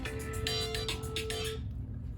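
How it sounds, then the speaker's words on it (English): A mobile phone rings indoors during an oil painting session: a faint repeating electronic ringtone pattern with short tonal pulses that stops after about a second and a half, over a low background hum. "I got to turn off my other phone"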